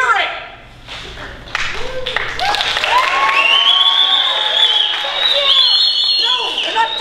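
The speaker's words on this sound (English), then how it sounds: "I can't hear you over there cheering!" A school drama audience cheers and applauds with rising shouts and whoops, loud and sustained after a brief quieter start.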